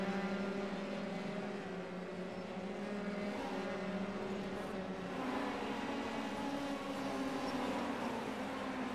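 Steady, continuous roar of race car engines with suspension noise in an iRacing Formula 3 race at Sebring, a dense unbroken drone without pauses.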